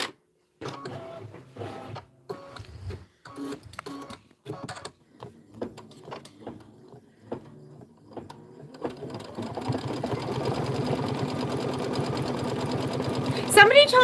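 A sewing machine stitches a quilt block, starting with short stop-start bursts between pauses and then running in a steady, continuous whir toward the end, with someone talking over it.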